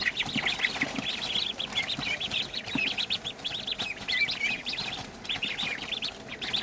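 Pekin Star ducklings in a brooding house give a steady stream of busy high peeps and chirps from many birds at once, with soft rustling and scattered low knocks underneath.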